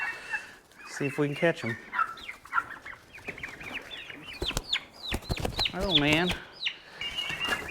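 Turkeys gobbling and clucking up close while being caught and moved into a cage, with bursts of wing flapping and scuffling, someone talking briefly among the calls.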